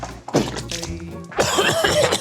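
A couple of sharp, close coughs break out in quick succession, followed by a rougher burst of throaty coughing.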